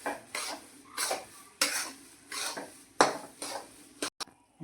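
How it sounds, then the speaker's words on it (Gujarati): Chopped cashews and almonds stirred into flour roasting in ghee for gond laddu, heard as a series of close, rhythmic scraping strokes of a spoon around a metal pan, about six passes, with a couple of sharp clinks at the end. "આ સુધાર્યા હતા ને કાજુ બદામ આમાં ઉમેરી દઈશું એટલે એ પણ ઘીમાં શેકાઈ જાય અને કાજુ બદામને પણ આવી રીતે આપણે મિક્સ કરી લઈશું"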